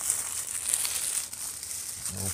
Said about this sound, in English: you do pull it and then it rips the plastic